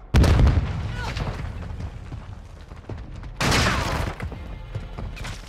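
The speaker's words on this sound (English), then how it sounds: "Flash incoming. Stun grenade out." A stun grenade goes off in Call of Duty: Modern Warfare II: a loud, low boom hits right at the start, then a second bright, crackling burst lands midway over a busy bed of distant gunfire and battle noise.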